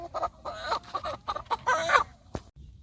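A chicken at a market gives a run of short, close clucks in quick irregular bursts, ending with a brief sharper squawk.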